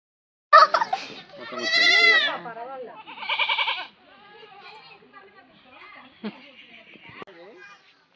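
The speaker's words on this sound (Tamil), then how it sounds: "ஆடு குட்டி போட்டுருச்சாங்க அந்த குட்டி இவங்கக்கிட்ட சிக்கி பாடுற பாடு பாருங்கங்க" A newborn goat kid bleats loudly and close up in a village near Thanjavur, several shrill, wavering cries in quick succession, followed by softer sounds as people talk nearby.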